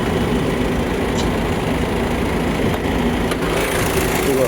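A used car's engine runs steadily at idle, a continuous mid-level mechanical drone with a couple of faint clicks, no one speaking.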